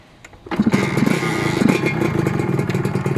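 A motorcycle engine cranks and catches, then settles into a steady, loud, close idle with a rapid chugging pulse.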